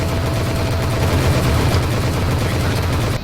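Aircraft guns firing in the flight combat game Vector Thrust, a steady, loud, unbroken rattle of rapid shots that carries through the whole stretch without pause.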